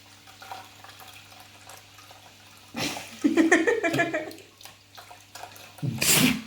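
Water for cooking pours into a container on a kitchen scale, starting after a quiet pause with a sudden close splashing gush that tapers off, then surges again briefly at the end.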